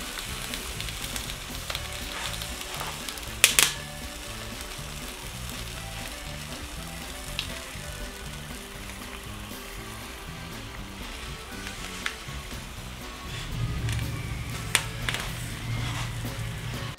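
Poblano chiles roasting over heat give a steady, close sizzle and crackle with occasional sharp pops, rolling on without pause; no one speaks.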